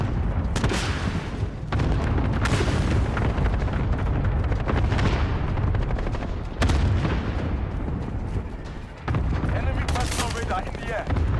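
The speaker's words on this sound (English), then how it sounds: "Friendly cluster strike inbound." Cluster strike explosions in Call of Duty: Modern Warfare (2019) form a loud, continuous barrage of booms and gunfire, with a few brief dips before the blasts surge again.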